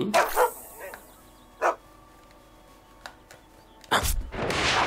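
Cartoon dog barking in the South Park role-playing video game, a few short sharp barks and yips spaced out over quiet game ambience, with a burst of combat noise at the end.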